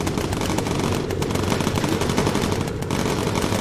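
Bomber turret machine guns rattle in the Bomber Crew game, a dense, continuous stream of rapid loud gunfire lasting the whole stretch without pause.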